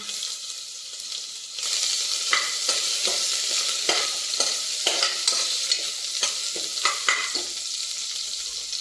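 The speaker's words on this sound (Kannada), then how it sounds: "ಶುಂಠಿ ಬೆಳ್ಳುಳ್ಳಿದು ಹಸಿರು ವಾಸನೆ ಹೋಗೋವರೆಗೂ ಈ ಥರ ಚೆನ್ನಾಗಿ ಹುರ್ಕೋಬೇಕಾಗುತ್ತೆ" Finely chopped ginger and garlic fry in a pan, a bright hiss that swells after a quiet opening, punctuated by repeated crisp scrapes of a spatula stirring, close and steady without voices.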